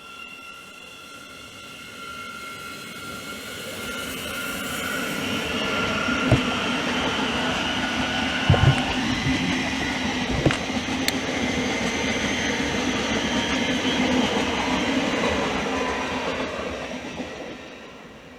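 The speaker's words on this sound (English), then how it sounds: "700-026 is now departing on 2 Charlie 27, the 1134 Thameslink service to London King's Cross and Cambridge" A Thameslink Class 700 electric train departing Hitchin station on the East Coast Main Line, a steady traction whine and wheel rumble swelling over several seconds with a few clanks from the rails, then easing away, with no voices.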